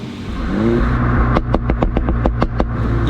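A 2022 MINI John Cooper Works revs hard under a steady engine drone, then a rapid string of about ten sharp exhaust pops crackles in a regular rhythm, loud and close, with no talking.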